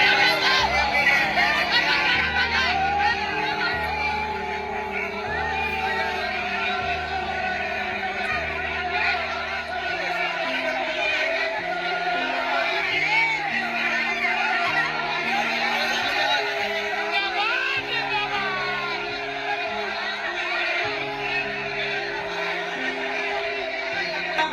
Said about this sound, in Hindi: ये देखिए, ये खुले मैदान का ये भीड़ है।